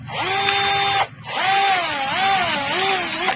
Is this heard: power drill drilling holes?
yes